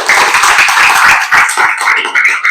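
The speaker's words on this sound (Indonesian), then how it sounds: "Tepuk tangan buat Bapak terakhir" Classroom group clapping for the final presenter, a loud, close, brisk burst of many hands with uneven rhythm, continuing throughout without speech.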